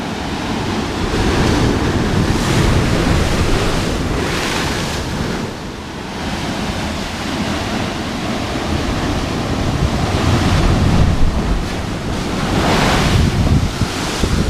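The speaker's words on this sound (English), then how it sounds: "looks like I found another one of these, kind of like a blowhole" Heavy ocean surf roars and surges continuously through a blowhole on the Road to Hana, Maui, with powerful swells rising and falling amid strong wind buffeting the microphone.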